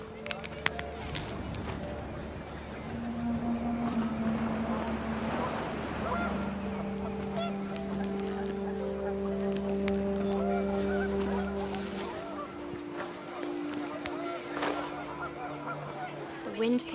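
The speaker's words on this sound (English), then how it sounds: "panicked geese appeared and quickly went" Panicked geese honk in a flurry of overlapping calls in the video game What Remains of Edith Finch, heard under a narrating voice amid wind and ambient sound.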